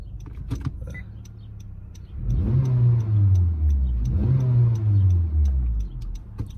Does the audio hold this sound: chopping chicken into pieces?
no